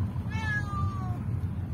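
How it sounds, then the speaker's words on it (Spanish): A kitten meowing on a street along Avenida 3 in Villa Gesell, a single drawn-out meow rising then falling, fairly near, over steady low street rumble. "Un gatito que atrás está haciendo miau."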